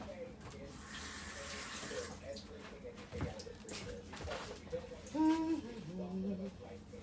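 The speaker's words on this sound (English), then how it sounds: "And again, rinse." Tap water runs into a kitchen sink while something is rinsed during banana bread preparation, a soft steady splashing with brief clinks of utensils, and a person speaking over it.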